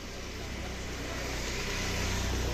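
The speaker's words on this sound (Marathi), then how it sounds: "थांब गाडी आली" A car drives up and arrives nearby, its steady engine hum swelling slightly louder over a couple of seconds with no other sounds on top.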